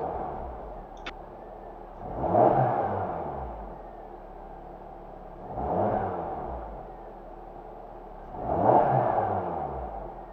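A Lada Priora engine idles steadily, rising three times in revs roughly every three seconds before settling back to a low hum; close and moderately loud.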